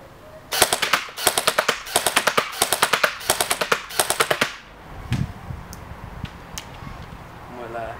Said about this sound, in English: And now a little flick over to full auto.